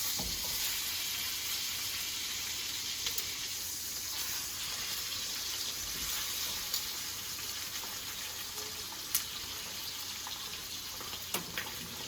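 The fat cap of a ribeye steak sears in a pan with a constant, dense sizzle that carries on without a break, and a few sharp pops stand out now and then. No voices are heard.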